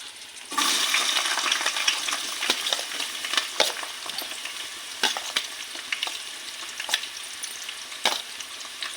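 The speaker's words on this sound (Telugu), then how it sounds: "వేడెక్కింది ఫ్రెండ్స్ ఇప్పుడు ఉల్లిపాయ పచ్చిమిరకలు వేసుకుందాం" Onions and green chillies hit hot oil in a pan for a Sunday chicken curry, with a loud steady sizzle that starts abruptly and continues, marked by sharp stirring clicks and scrapes.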